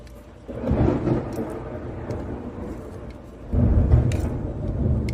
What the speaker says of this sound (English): The storm in the great city of Houston.